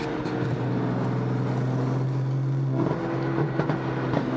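A flame-tuned BMW M4 cruises along back roads, its engine drone steady and loud from inside the car, shifting pitch near the end with a few sharp pops.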